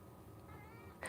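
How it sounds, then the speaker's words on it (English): A pet cat gives a single faint meow near the end, rising out of quiet indoor room tone, no talk. "You can hear him meowing, right?"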